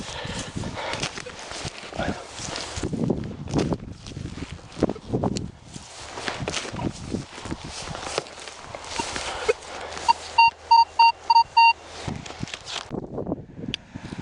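Minelab Vanquish metal detector giving a loud signal: a short run of rapid high beeps near the end, over rustling, digging and footstep noise outdoors.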